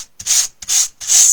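A pencil sketch is lightly sanded with sandpaper or a nail file: three short, dry scratchy strokes, close and fairly loud, separated by brief pauses, with no talk.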